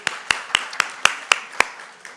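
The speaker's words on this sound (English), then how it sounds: "Please, give a round of applause." A single person claps alone in steady sharp slaps, about eight distinct claps, close and fairly loud, with no crowd joining in.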